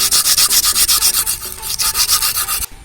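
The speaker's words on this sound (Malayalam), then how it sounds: "നിങ്ങൾ ആക്സോ ബ്ലേഡ് ആണ് നിങ്ങളുടെ കയ്യിലുള്ളതെങ്കിൽ, അതല്ലെങ്കിൽ നമുക്ക് കട്ടർ വെച്ചൊക്കെ കട്ട് ചെയ്തെടുക്കാവുന്നതാണ്." A hacksaw blade cuts through a brick for a homemade rocket stove, making a fast, steady series of rasping back-and-forth strokes, loud and close, before stopping abruptly near the end.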